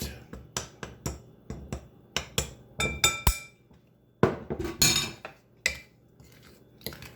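A small kitchen chopper cuts shortening with a rapid run of sharp, close clacking chops, a brief pause, then a few more strikes, heard alone without voices.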